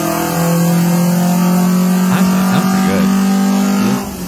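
A car engine revs loudly nearby, holding a strong droning tone with a few sharp throttle blips before easing off at the end.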